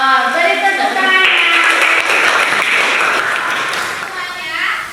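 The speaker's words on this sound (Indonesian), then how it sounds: "Beri tepuk tangan." A classroom of students claps together in a loud, dense burst right after a voice at the start, with the applause tapering gradually over several seconds.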